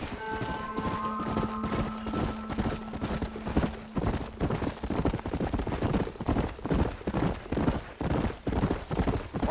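A horse galloping in the video game Red Dead Redemption, with rapid rhythmic hoofbeats and a brief whinny near the start, steady and close under faint background sound.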